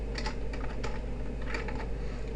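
Keys clatter on a computer keyboard while HTML body tags are entered, making a close, fairly quick run of light clicks in short irregular bursts with no talking.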